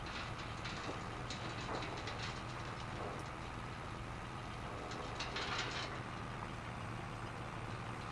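A Mercedes tractor engine in Farming Simulator 25 runs with a steady, continuous low drone and rumble at an even level, with faint clicking on top and no voices.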